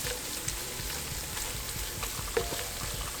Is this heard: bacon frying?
yes